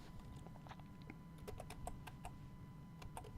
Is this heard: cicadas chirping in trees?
no